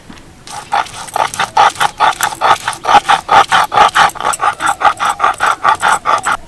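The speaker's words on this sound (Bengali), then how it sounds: "একইভাবে আমি মুসুরির ডালটাও বেটে নেবো" Red lentils are ground into a paste for pakora with rhythmic, gritty back-and-forth rubbing strokes. Around twenty even, close-up scrapes follow one another steadily, with no talk.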